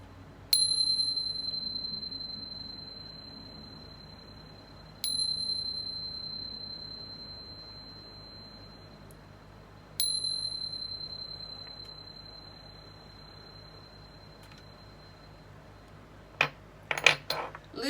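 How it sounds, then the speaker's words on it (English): Chimes are struck three times, about five seconds apart, and each bright metallic note rings and slowly fades. A few quick rattling clinks close the sequence in a quiet room. "let's chime"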